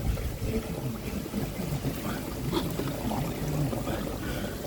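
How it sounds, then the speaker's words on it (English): Water gushes steadily out of a garden pond pipe at night, a continuous near rushing and splashing that keeps up without a break. "That's blowing water out that way."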